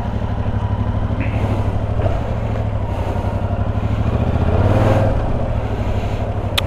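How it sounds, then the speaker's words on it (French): A Yamaha R7 motorcycle with its stock exhaust idling nearby, giving a steady, throbbing low rumble with a slight swell in revs partway through. "Ce doux bruit du pot d'origine"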